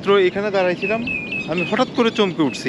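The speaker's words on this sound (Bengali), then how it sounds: "এই যে বাবুই পাখির ডাক" Baya weaver birds near their nests in Cox's Bazar give thin, high chirps that sit faintly under someone talking close by.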